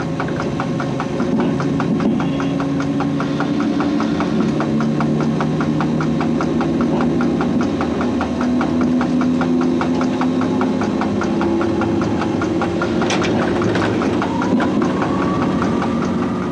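Inside the cab of the CC 6524 electric locomotive pulling train 471 out of Paris Austerlitz, a loud steady hum and drone of traction equipment holds throughout, with rising tonal whines and faint rattles.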